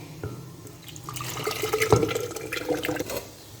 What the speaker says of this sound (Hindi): यहाँ थोड़ा सा हम डालेंगे पानी।